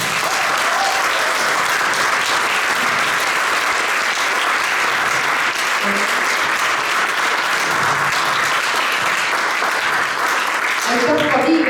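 Sustained applause fills a dance group's 15th anniversary concert in Kiikla, a steady dense clapping from a large audience, with a few voices rising near the end.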